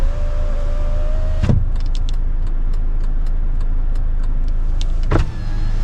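The power window motor of a Kia Carnival whirs steadily as it is run from the driver's main switch, with a soft thunk at each start and stop and a faint electronic ticking in between.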